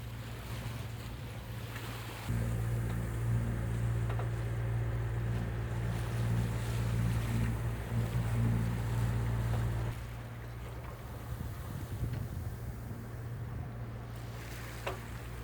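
A sailboat motors on its engine through waves off Hestur in the Faroe Islands, a steady low drone that swells louder midway then eases back, with wind and water washing around it.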